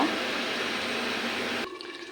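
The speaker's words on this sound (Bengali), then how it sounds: "আর একটু জল দিয়ে দেব" Water is poured into a simmering curry of large fish pieces with potato, brinjal and tomato, making a steady, close rushing splash that cuts off abruptly near the end.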